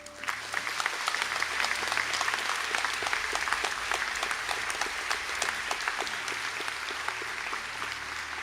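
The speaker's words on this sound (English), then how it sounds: "I'd like to invite anyone present from the Postgraduate Diploma in Business and Financial Planning, Masters in Financial Planning and Sustainability to stand for a round of applause" Sustained applause from a graduation conferring ceremony audience honouring postgraduate diploma and masters graduates in financial planning, dense and steady for the whole stretch with no break.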